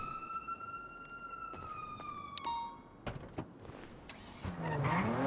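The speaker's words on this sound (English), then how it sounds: "I hear the engine" A vehicle engine runs in a video game as a steady, drawn-out tonal whine that slowly bends in pitch, joined by clicks and bumps and rising to a louder rough roar at the end.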